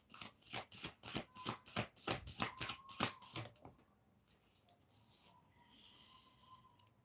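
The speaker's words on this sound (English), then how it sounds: "So please be patient with my shuffling." Tarot cards are riffle-shuffled in a rapid run of about ten crisp, rhythmic bursts, close and clear, followed by a quiet stretch with faint background sounds and no talking.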